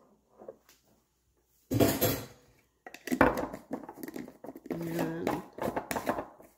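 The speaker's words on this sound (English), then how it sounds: "I'm just going to stir it up to dissolve." Grass jelly powder stirred into about two cups of water: soft clinks and scraping of a utensil against a container in short irregular bursts, close and fairly quiet, with a brief spoken word.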